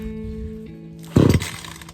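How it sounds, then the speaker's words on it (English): An Echo CS 400 chainsaw on a job site sputters briefly on a rope pull, a short loud burst of engine firing that almost catches and dies away within a second. "Pull the start rope until you hear it almost start."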